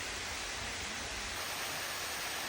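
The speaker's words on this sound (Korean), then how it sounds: "졸졸 흐르는 물소리를 듣고 있자니" A small waterfall in a Seoul hillside garden pours and trickles steadily, a dense, even rush of flowing water with no other sounds.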